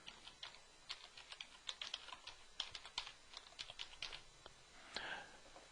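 Rapid, uneven clicking of typing on a computer keyboard as a comment is entered, close and moderately quiet, with a few louder key strikes and a brief rustle near the end; no talking.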